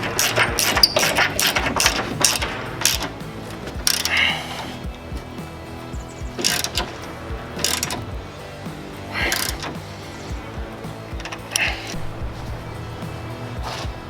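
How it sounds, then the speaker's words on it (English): Ratchet wrench tightening the tie-down and bed bolts on a Toyota Tacoma during a raised-bed stiffener install, giving close, loud bursts of rapid clicking in several separate runs with brief pauses between, and no talking. "Once you have all four of the nuts and bolts tightened up, you can go ahead and tighten the tie down bolt and the bed bolt."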